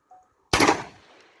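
A single loud shotgun blast from an Aksa Crossfire 36 cal (.410), sharp onset with a short decaying tail, heard outdoors after a faint click.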